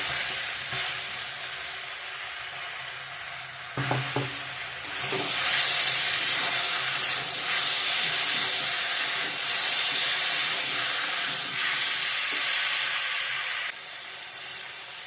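Spice paste frying and being stirred in a pan for a potato, soybean and sweet pumpkin curry. A steady, fairly loud sizzle runs throughout, with occasional utensil scrapes and knocks. No one speaks.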